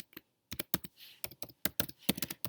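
Rapid, uneven clicks of keys being typed on a computer keyboard, in close short bursts with brief pauses, while the name of a charity foundation is entered for a thumbnail design.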